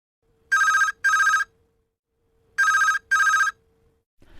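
Telephone bell ringing in two double-ring bursts, loud and close, with silence between them and no talk over the rings.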